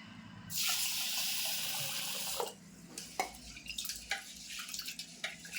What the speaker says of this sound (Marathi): हे तांदूळ ना जास्त धुवायचे नाहीत मी फक्त दोन पाण्याने धुणार आहे